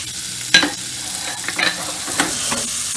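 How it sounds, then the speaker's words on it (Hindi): Finely chopped onion sautés in a pan with a steady sizzle, broken by a few scrapes and clacks of a stirring utensil, close and fairly loud with no speech. "ये 1 मीडियम साइज़ का प्याज है, इसे भी बारीक काटा था, ये भी डाल देंगे और इसे 1-2 मिनट भूनेंगे।"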